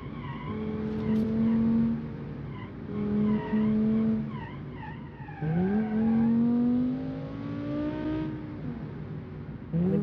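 Engine sound of a sports sedan in a racing video game, rising and falling through gear changes, with rising whine as it accelerates repeatedly, steady and fairly loud throughout.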